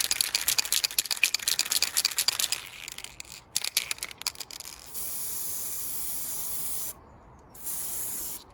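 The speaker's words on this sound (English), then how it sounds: "we shall give it a quick spray up and see how we get on" Rapid bursts of aerosol spray paint hiss in quick pulses, then longer continuous hissing sprays with short pauses, close up, painting a Ruger 10/22 rifle butt plate.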